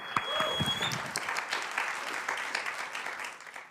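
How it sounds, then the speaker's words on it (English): Applause from an audience, steady clapping that fills the room for several seconds, with a brief vocal sound near the start. "Give her another round of applause."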